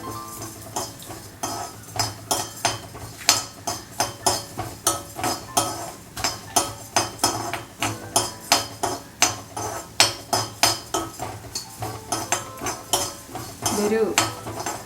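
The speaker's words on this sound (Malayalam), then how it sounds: "ഈ മല്ലി ഒന്ന് ചെറുതായിട്ടൊന്ന് മൂക്കണം" Coriander seeds dry-roast in a pan for traditional sambar. A utensil scrapes and clinks against the pan in a quick, steady stirring rhythm, fairly close and fairly quiet.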